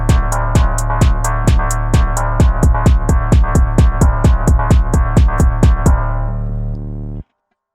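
Basic phonk beat pattern with booming kicks, about twenty evenly spaced punchy hits under a sustained tonal bed, playing loud and alone before ending in a short tail and abrupt cutoff.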